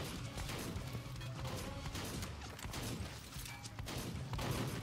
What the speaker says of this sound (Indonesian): Pada main tembak-tembakan.